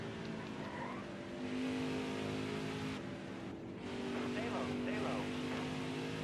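Racing truck engine in NASCAR Heat 5 revving and droning steadily through a race, with pitch rising and falling as it accelerates, heard with a voice talking over it.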